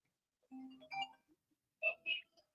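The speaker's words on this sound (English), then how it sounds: "Phone busting today." A phone rings with two short groups of bright, melodic electronic tones separated by a brief pause, fairly quiet and heard alone.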